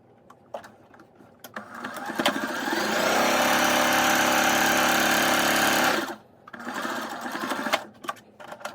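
A sewing machine stitches a fabric face mask, running in a loud, steady burst of several seconds that is bracketed by shorter start-and-stop runs, close up with no talking.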